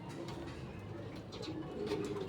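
Racing pigeons, a Termi cross Basra line, coo softly in a loft, with low murmuring calls repeating over a steady background hum.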